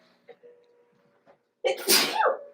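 A single sharp sneeze bursts out after a few quiet faint sounds, loud and close.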